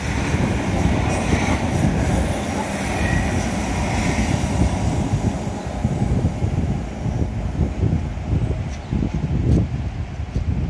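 A train rumbles past up close along the seawall at Teignmouth, steady heavy rolling noise throughout with occasional metallic wheel squeals and clatter.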